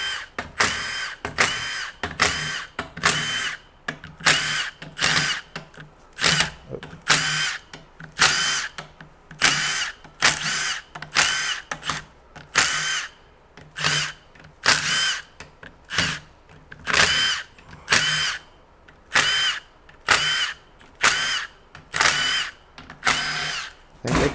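Repeated bursts of a power tool or impact driver backing bolts out of a 2003 Ford F-150 Triton 5.4L 4x4 transmission, close and loud, each short whirring pulse separated by brief pauses in a steady rhythm.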